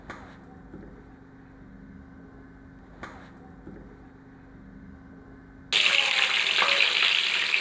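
Garlic dropped into hot sesame oil for a green chilli chicken fry bursts into a loud, steady sizzle partway through, after a quiet stretch of soft kitchen clatter and faint background hum.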